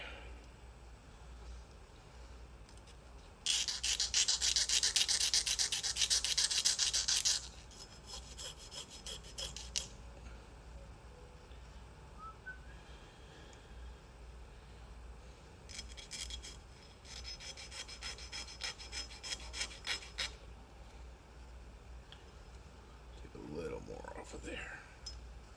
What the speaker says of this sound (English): So now I'll use file.